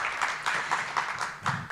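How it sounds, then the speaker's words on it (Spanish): Applause from the audience at an international conference, a steady dense patter of many hands lasting under two seconds, moderately loud and heard alone with no voices. "Muy bien, un aplauso."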